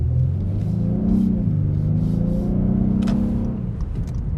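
Engine of an Acura TLX SH-AWD A-Spec cruising through town, with its sound amplified inside the cabin: a steady, close low drone that rises slightly in pitch near the middle and stays continuous throughout, with no talking.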